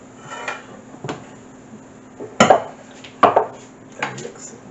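Cassava bread batter being stirred in a pan just taken off the fire, giving scraping and knocking bursts of a spoon against the pan, two louder clatters in the middle, with no talking.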